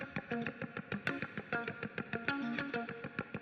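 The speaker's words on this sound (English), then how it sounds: "I'm using a spreader here just to spread out the guitars a little bit more and to create a double take kind of a sound" Electric guitars in a song mix, widened with a stereo spreader into a doubled, layered sound and washed in plate reverb, playing a steady rhythmic strummed pattern with distortion.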